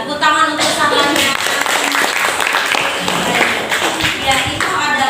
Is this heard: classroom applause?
yes